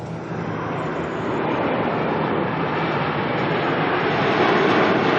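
A Dash 8 turboprop banking into its turn after takeoff from Auckland Airport, a continuous engine drone that swells gradually louder toward the end, with no voices.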